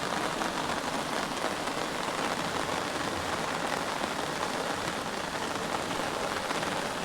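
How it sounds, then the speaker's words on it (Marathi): Heavy rain pours down steadily, a dense, unbroken hiss of drops drumming on surfaces with no other sounds. "पाऊस पण जोरदार पडता"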